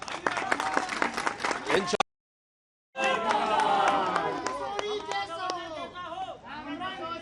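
Large crowd at a governor's media talk in Sindh, Pakistan, cheering, shouting and clapping in a dense, continuous roar that breaks off for a moment and then resumes, with voices calling out.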